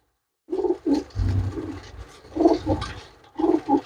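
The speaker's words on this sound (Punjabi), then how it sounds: "ਇਹ ਸਾਰੇ ਸਾਰੇ ਉੱਡਣ ਵਾਲੇ ਕਬੂਤਰ ਆ" Flying pigeons coo close by in several short, throaty bursts, with soft rustling between the calls.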